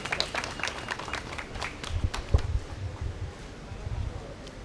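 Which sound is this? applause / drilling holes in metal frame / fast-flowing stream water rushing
applause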